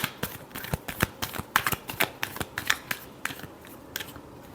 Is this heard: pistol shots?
no